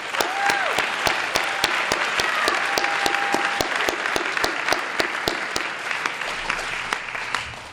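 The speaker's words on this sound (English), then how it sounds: "So could you please give them a round of applause?" Sustained applause from a school audience at a Black History Month celebration, dense steady clapping filling the whole stretch with sharp individual claps standing out, loud and close with no talk over it.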